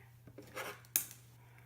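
Scissors snip off a length of craft wrapping ribbon or twine at a card-making table, with a couple of short close cuts and a sharper final snip, quiet and alone.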